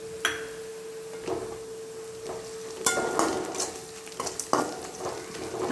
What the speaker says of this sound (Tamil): வெங்காயம் நல்லா வதங்கிருச்சு. இப்போ பச்சை மிளகா சேர்த்துக்கலாம்.